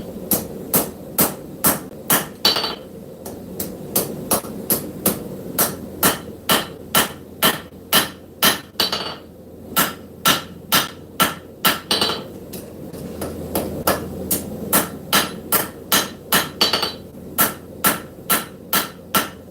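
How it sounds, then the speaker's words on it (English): A small carbide ball peen straightening hammer strikes a steel knife blade forged from scrap steel, ringing out in sharp, evenly spaced metallic blows with brief pauses between bursts, loud and close with no talk. "I'm using the straightening hammer, the little carbide ball peen hammer."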